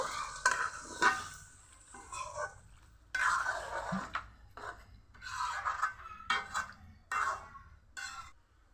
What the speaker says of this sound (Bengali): এখন ভালো করে কষিয়ে নিব